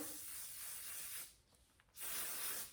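A long, steady hair spray hiss sprays close by, breaks off for a moment, then resumes in a second strong burst.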